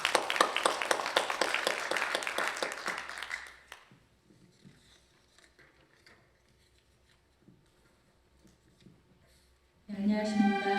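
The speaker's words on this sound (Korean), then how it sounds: "자, 우리 선생님을 힘찬 박수로 모시겠습니다." An audience at a commemoration ceremony claps to welcome a soprano: a dense burst of applause that thins and fades within about four seconds, followed by a quiet room until a voice comes in at the end.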